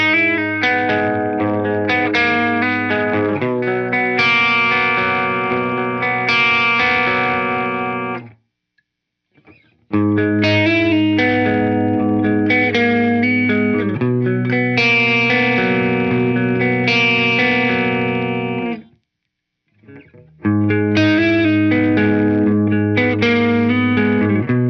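A Gibson Les Paul Classic electric guitar with light drive strums ringing chords in three takes on the bridge, middle and neck pickups, each a sustained, slightly broken-up phrase separated by brief silences.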